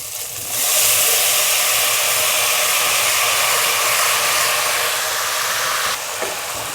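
Prawns frying in a pan for a Bengali fenugreek greens dish give a loud, steady, close hiss that holds for several seconds and then eases slightly near the end, with no voices.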